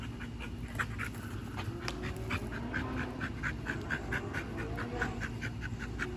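A Dogo Argentino puppy pants and snuffles in steady quick bursts while playing, with faint squeaky yelps over a constant low background hum, close and fairly quiet.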